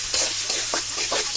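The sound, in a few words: onions frying in oil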